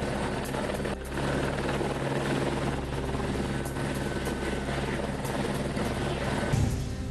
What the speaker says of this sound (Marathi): महाशिवरात्रीनिमित्त संत मुक्ता यांनी चांगदेव गुरु शिष्य यात्रा महोत्सवावर हेलिकॉप्टरनं पुष्पवृष्टी केली